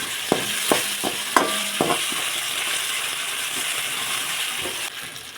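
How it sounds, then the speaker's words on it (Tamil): Ginger paste sautéing in a pan for a Tamil-style chicken curry, a steady close sizzle with a few sharp clinks of a spoon against the pan early on, fading slightly near the end; no talking. "கொஞ்சம் பச்சை வாசனை போகிற அளவுக்கு வதக்கிடலாம்"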